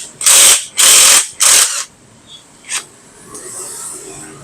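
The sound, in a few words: ratchet socket wrench loosening motorcycle bolt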